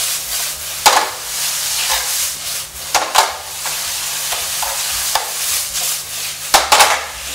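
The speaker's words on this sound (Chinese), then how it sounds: "再快速拌炒一下。" Pickled mustard greens stir-fried in a wok with a spoonful of sesame oil, giving a steady soft sizzle with repeated scraping and tossing strokes of a spatula at irregular intervals.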